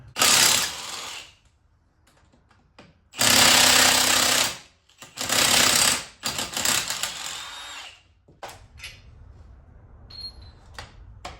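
Loud rattling bursts of a power tool pulling bolts off a Dana 30 axle during a swap, two to three hammering runs followed by softer clinks and scattered metallic taps.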